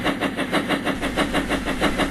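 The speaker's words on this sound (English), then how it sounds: "Then she heard the sound of an engine coming up from behind." A rhythmic chugging train engine runs steadily and loud, its repeated beats pulsing evenly throughout with a continuous low rumble, an effect from a Thomas and Friends audio story of an engine coming up from behind.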